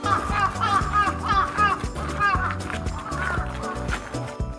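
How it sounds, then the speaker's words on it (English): Crows caw in the Seiryuin Garden at a Kyoto castle, with repeated harsh calls from several birds close by over a busy layered background. "home to a murder of crows."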